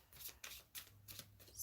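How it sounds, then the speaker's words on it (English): Tarot cards are shuffled close up in a series of quick, papery riffling bursts with brief pauses between them, no voices. "I'm shuffling the fuck out of these cards"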